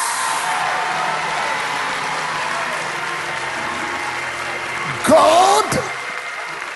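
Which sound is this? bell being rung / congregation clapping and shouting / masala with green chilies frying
congregation clapping and shouting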